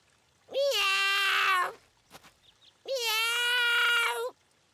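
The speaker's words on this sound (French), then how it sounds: "Oh, un chaton, le pauvre. Il est coincé, il ne peut plus redescendre." A cartoon kitten stuck up high meows twice, each a long, loud, drawn-out cry with a short quiet gap between them, heard alone with no other sound.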